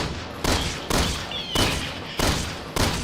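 Bursts of rapid gunfire from the video game Resident Evil 6 come in four or five loud, close volleys separated by brief gaps, each burst sharp at the start and then trailing off.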